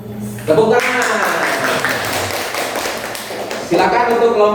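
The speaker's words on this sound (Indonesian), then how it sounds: "Tepuk tangan." A classroom group claps hands together in a dense burst of about three seconds, loud and close, with voices talking just before and after.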